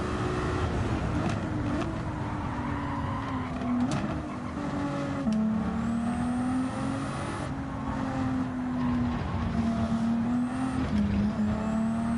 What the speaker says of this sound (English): the sound when I go off the throttle is quite nice of the turbo